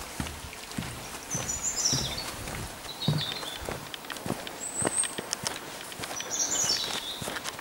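Woodland birds sing bright, high phrases at intervals over a quiet stream setting, while close footsteps crunch steadily underneath and no one speaks.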